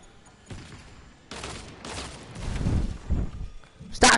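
Bursts of gunfire in a Fortnite match ring out in uneven volleys, moderately loud and close, building toward a sharp, heavier crack at the end, with no voices over it.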